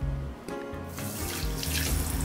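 Water runs from a shower tap while flower pots are rinsed, a steady close splashing stream that thickens and brightens partway through as the flow hits the pots, with no talking.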